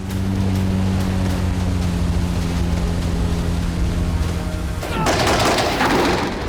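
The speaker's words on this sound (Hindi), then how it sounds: "अचानक आसमान से समुद्र में गोलियां चलने लगी" Gunfire from a patrol helicopter over the Black Sea strikes the water near a naval drone. A steady droning engine hum gives way near the end to a loud, rapid burst of gunfire mixed with rushing noise.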